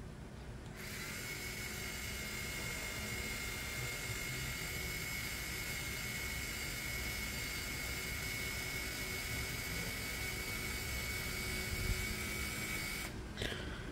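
An NRT Pro TX10DC cordless screwdriver spins at its lowest speed, giving a steady, even motor whine with a thin high tone. It holds unchanged for about thirteen seconds, close and alone, then cuts off near the end.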